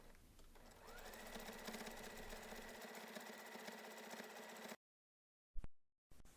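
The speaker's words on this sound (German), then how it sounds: "Mit einem Zickzackstich nähst du nun die beiden Teile zusammen." A sewing machine runs a steady zigzag stitch joining two pieces of denim jeans, a continuous mechanical whir for several seconds that then stops abruptly, followed by brief quiet and a short clack.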